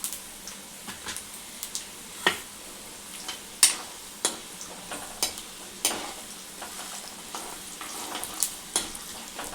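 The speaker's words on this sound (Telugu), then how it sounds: "ఇప్పుడు దీంట్లో కొంచెం మినపప్పు కొంచెం శనగపప్పు ఇవి కొంచెం ఫ్రై అయినాక" Urad dal and chana dal frying in oil, a quiet bed of sizzle punctuated by scattered sharp pops and crackles at irregular intervals, close and alone without speech.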